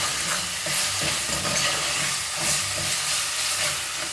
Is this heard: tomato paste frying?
yes